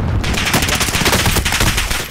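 Gunfire in the video game Call of Duty Modern Warfare: a loud, dense stream of rapid automatic shots that fills the whole stretch and tapers slightly at the end.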